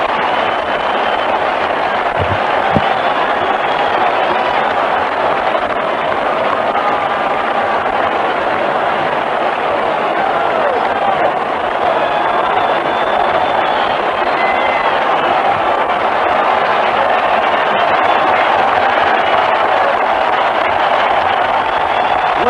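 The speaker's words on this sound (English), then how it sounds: "Listen to this crowd." A baseball stadium crowd at the 1979 ALCS Game 1 between the Angels and Orioles keeps up a steady, dense roar, a continuous din lasting the whole stretch without breaks.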